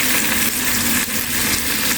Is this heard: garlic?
yes